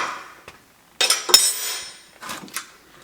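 A few sharp metallic clinks and clanks as a jam nut is tightened on a vise base during assembly, arriving in two or three close bursts separated by short quiet gaps, with no talking.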